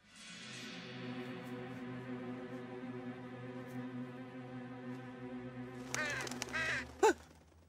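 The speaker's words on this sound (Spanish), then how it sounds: "Es un pájaro." A cartoon bird call rings out briefly near the end, sharp and close, after a long stretch of steady droning background in a children's animated firefighting rescue show.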